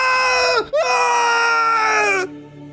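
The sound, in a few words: creature screaming sound effect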